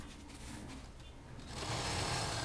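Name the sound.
sewing machine stitching saree bed cover straight seam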